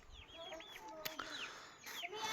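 Chickens cluck close by in a yard, a series of short rising and falling calls with a few sharp clucks, quiet ambient noise underneath and no talk.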